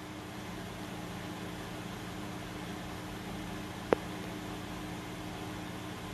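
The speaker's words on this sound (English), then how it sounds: "But you can hear them humming in the background. Just a humming away. The wind turbines." Wind turbines humming in a light wind of about 6 to 8 mph: a steady broadband drone with faint tonal hum lines running throughout, with a single brief click partway through.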